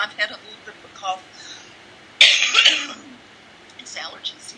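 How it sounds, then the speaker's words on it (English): A short, harsh throat-clearing cough bursts out mid-clip, loud and close, with quiet speech-like sounds before and after it. "I've had a little bit of a cough."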